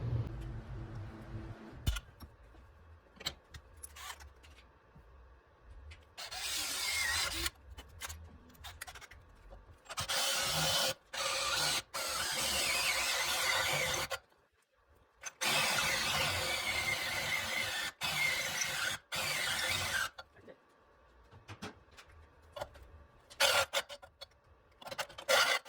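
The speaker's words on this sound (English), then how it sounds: "you actually need to drill a 3/4 inch hole on the left side for the oil pickup" A drill cuts a 3/4 inch hole in the left side of a Gen 3 Hayabusa oil pan for the oil pickup, sounding as several sustained grinding bursts with stops and clicks between them.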